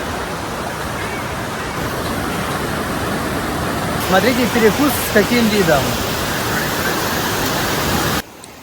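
Waterfall pouring beneath a roadside cafe outside Mae Chaem toward Chiang Mai, Thailand, a steady loud broadband roar filling the whole scene, with a person talking over it midway.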